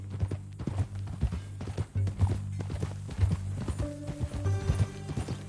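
Video-game horse hooves clip-clop in a steady walking rhythm, close and clear, with a low hum and faint mechanical sounds underneath.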